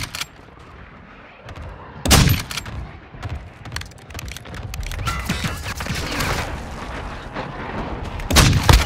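Gunfire and explosions in a Modern Warfare II ground war match, with sharp loud blasts near the start and end and a scatter of shots in between.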